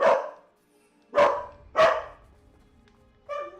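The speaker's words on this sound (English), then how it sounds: "Sorry for the barking, guys." A dog barks in sharp, loud bursts close by, three quick barks followed by a shorter, whinier yelp, with quiet gaps between and no talking.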